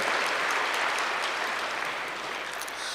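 An audience at a spiritual discourse claps together, a dense, even burst of many hands that fades slightly toward the end.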